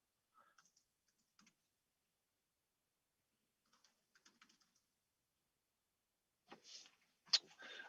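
Fingers typing a mnemonic phrase on a computer keyboard in a few sparse bursts of quiet key clicks, then a denser, louder flurry of keystrokes toward the end, with no talking.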